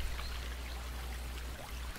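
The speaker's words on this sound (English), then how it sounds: "Well, you can slurp some water here." Water gently trickling and pouring in The Forest video game as a character drinks, a steady soft liquid stream with low rumble beneath, no voices.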